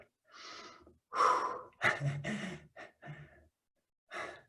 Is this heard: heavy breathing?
yes